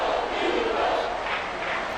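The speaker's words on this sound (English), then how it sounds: "This crowd doing all they can." A stadium crowd in an American football video game roars in a steady, dense wall of cheering throughout, with no clear breaks.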